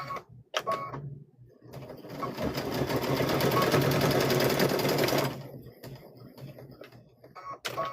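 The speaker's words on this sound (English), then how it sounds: "And I do a back stitch on this." Sewing machine back stitching a quilted Halloween gnome wizard tote bag: a close, rapid mechanical whirr that runs for a few seconds, with short clicks and handling noises before and after, plus faint talk.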